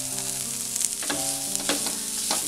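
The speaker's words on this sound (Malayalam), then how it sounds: "ഉരുളക്കിഴങ്ങ് ചേർത്തതിന് ശേഷം ഇത് നന്നായിട്ടൊന്ന് മിക്സ് ചെയ്തെടുക്കാം" A potato and vegetable mixture for bread roll filling sizzles in a hot pan while being stirred, with a constant close frying hiss punctuated by a few sharper scraping strokes, faint music underneath.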